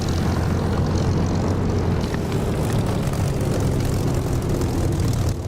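Steady propeller aircraft engine drone from a plane in the DCS flight simulator game, loud and continuous with a deep low rumble and no talking.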